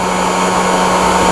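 Edge banding iron heating pre-glued edge banding onto a Murphy bed board edge, giving a steady, even blowing hiss with a low hum that runs unbroken throughout.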